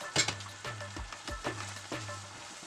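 A utensil scrapes and stirs through a creamy sauce in a pot on the stove, four or five rhythmic strokes at close range with a soft bubbling bed underneath.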